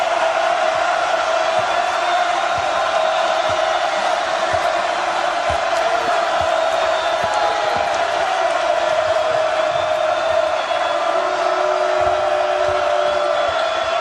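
A college basketball arena crowd roars after a tip-in, a dense, sustained wash of cheering that holds loud and even across the whole stretch, with a commentator's voice faintly under it.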